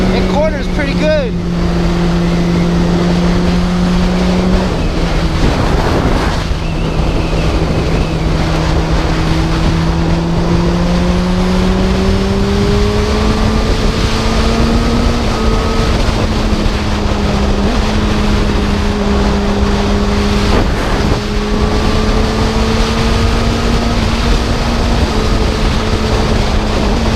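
A 2013 Honda CBR600RR motorcycle engine revs up in several rising pulls, its pitch climbing and dropping between gear changes, with steady wind rush throughout.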